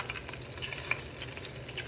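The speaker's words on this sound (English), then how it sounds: "you want to hear that sizzle. That means it's doing what it needs to do." Steady, bright sizzling of veal searing in a hot pot, a continuous crackle with a few sharp pops, close and moderately loud.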